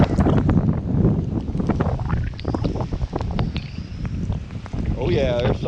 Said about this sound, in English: there's some 25, 30 mile an hour winds there already.